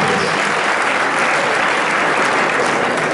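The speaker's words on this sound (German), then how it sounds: "Applaus" A theater audience at a youth sports awards ceremony gives a short, dense burst of applause, loud and unbroken from start to finish.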